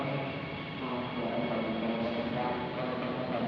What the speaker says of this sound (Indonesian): Oh, ini ada kereta bandara ya di sini ya.